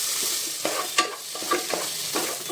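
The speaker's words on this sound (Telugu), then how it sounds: "టమాటాలు వేసేసుకుందాం. వేసుకొని కలుపుకోవాలి." Chopped tomatoes get stirred into a frying fish curry in a home kitchen pan, a steady sizzle broken by a few scraping spoon strokes, close and fairly quiet with no talking.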